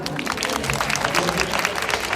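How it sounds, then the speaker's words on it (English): Guests at a book launch clap for the author, a brisk, close, dense patter of hands with a faint murmur of the crowd underneath, continuing steadily throughout. "So big clap to you."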